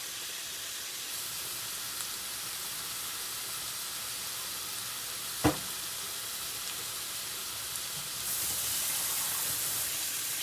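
Steady high sizzling hiss of tomato paste frying in a pan, with a brief sharp clack midway and the sizzle growing slightly brighter near the end.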